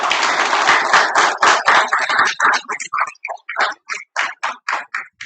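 Conference panel audience applauds: full, dense clapping at first that thins out into scattered individual claps with growing gaps before fading.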